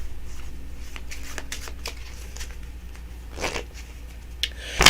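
A deck of playing cards is shuffled and cut close by during a magic practice. Soft riffling bursts and slides are followed by a crisp, louder riffle at the end, with no talk.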